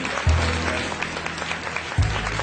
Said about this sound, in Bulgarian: уважаеми дами и господа, аплодисменти